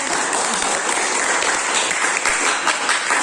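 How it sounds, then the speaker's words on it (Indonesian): A classroom of students claps for a classmate during a biology lesson, a sustained burst of fairly loud, even applause with no talking over it. "Berikan tepuk tangan dulu."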